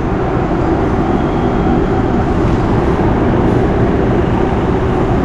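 Loud, steady low rumble of the Tawang Jaya Premium economy train in motion, heard continuously from inside without talk.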